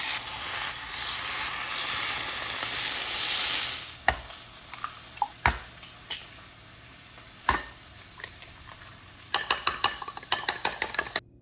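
Bacon and three eggs frying in a pan for breakfast, a loud steady sizzle at first that drops away, followed by scattered clinks and taps of utensils, with a quick run of clicks at the end.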